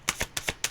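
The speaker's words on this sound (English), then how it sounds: "Let's try the underhand shuffle." Tarot deck being shuffled underhand, giving four quick crisp riffling bursts of cards close by, with no talk.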